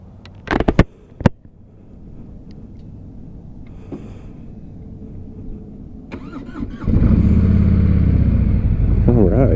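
A Harley-Davidson Sport Glide motorcycle starts up after a few clicks and a faint rumble, then settles into a loud, steady engine roar for the last few seconds.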